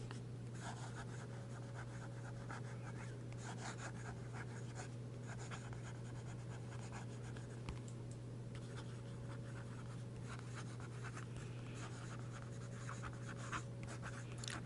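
Fountain pen nib scratching steadily across Rhodia dot paper, a soft continuous writing texture close to the microphone over a constant low hum.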